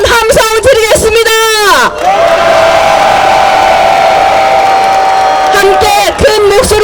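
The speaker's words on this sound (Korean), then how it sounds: "이 염원을 담아 크게 한번 함성 드리겠습니다." A large outdoor election-rally crowd at Balsan Station in Gangseo-gu, Seoul, lets out a long, loud collective shout, rising from scattered chanting voices into a sustained roar for several seconds before individual voices return.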